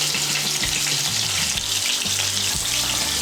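Potato pieces with salt and turmeric fry in oil in a wok, a dense, steady sizzle close up. Low scraping stirs come through it now and then, with no voices.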